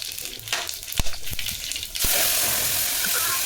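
Spices frying in hot oil in a deep cooking pot give a steady, close sizzling hiss, preceded by a few sharp clinks and stirring taps.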